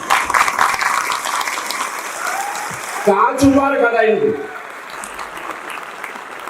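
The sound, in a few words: audience clapping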